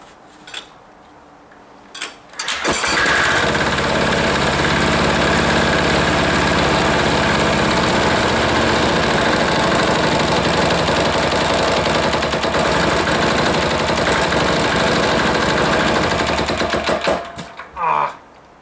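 Air-cooled diesel engine fired up and running, a loud, rough, rapid clattering knock held steady for about fifteen seconds before cutting out, with brief sounds before and after.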